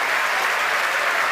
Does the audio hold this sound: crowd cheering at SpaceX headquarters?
yes